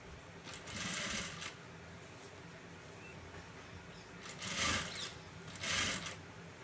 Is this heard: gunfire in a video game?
no